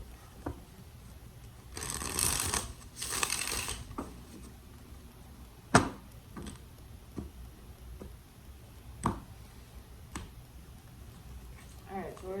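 Deck of tarot cards riffled in two short quiet bursts near the start, followed by sparse soft taps and clicks as cards are squared and laid down, close and faint.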